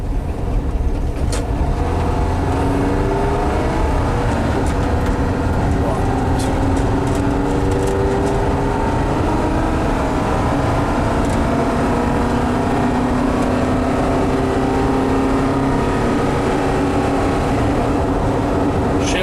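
A 1974 Volkswagen Westfalia with an automatic transmission pulls away from near a stop and accelerates through its gears, the engine drone rising and shifting steadily and loudly throughout, with no speech over it.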